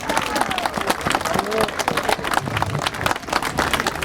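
Crowd applause for panelists at an outdoor civic forum on Freedom Square: dense, steady clapping that fills the whole stretch, with voices talking over it.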